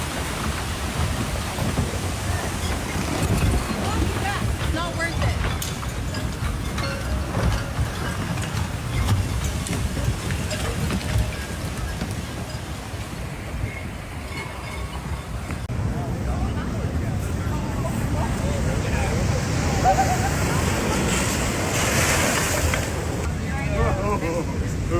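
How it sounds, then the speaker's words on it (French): Large waves strike and wash against a harbour quay in Santa Cruz during a damaging storm, a loud, continuous roar and surge with voices talking over it. "De nombreuses grosses vagues chatouillaient le ventre du quai."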